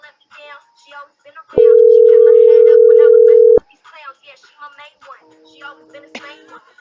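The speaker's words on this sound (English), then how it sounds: "That's my ringtone." A steady electronic phone tone sounds for about two seconds between stretches of talk, followed by fainter tonal beeps under speech near the end.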